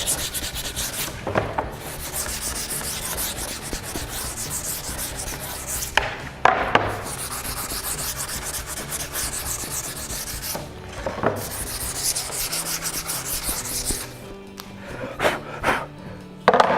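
Sanding along the edge of a painted wooden cabinet door, close and steady rasping strokes repeated in bursts, with brief pauses between passes.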